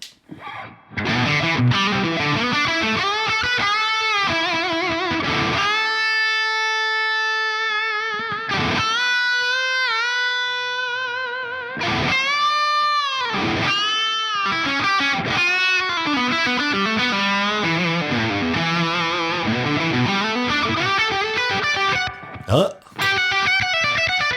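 Heavily distorted electric guitar plays chords and sustained notes through a Laney amp with boost engaged, thick and saturated, with brief pauses between phrases.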